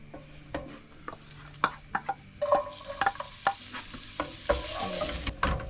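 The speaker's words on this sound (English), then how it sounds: "It's about half cooked. Yeah, garlic." Garlic sizzles in a hot pan while a utensil stirs and scrapes it in a quick, irregular rhythm of close clicks and knocks over a steady frying hiss, with no one talking.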